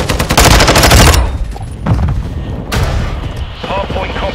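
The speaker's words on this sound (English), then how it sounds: "Stun grenade." A stun grenade bursts in Call of Duty MW2 multiplayer on the Dome map, a loud close blast with ringing aftermath amid rattling gunfire and further bangs.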